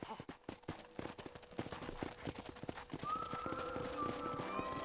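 Horse hooves clip-clop in Red Dead Redemption on Nintendo Switch as a rider trots toward a corral, the quick uneven beats joined partway through by a sustained musical tone, with faint game voices.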